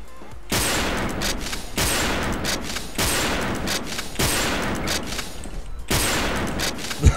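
Video game gunfire in a mobile battle royale match, repeated loud bursts of rapid shots spaced about a second apart, close and dominant with no talk.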